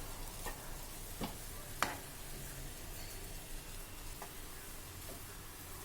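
Semolina cooking in a pan for rava gulab jamun, a soft steady sizzle with occasional faint scrapes and taps of a spoon as it is stirred, quiet and close with no talking.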